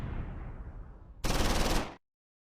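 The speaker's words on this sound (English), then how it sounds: "The medium machine gun team alert 3rd Platoon" Medium machine gun fire in the WWII game Close Combat 4, set during the Battle of the Bulge at Clerf: a loud, dense sustained burst that cuts in abruptly after a rumbling lead-in and stops sharply.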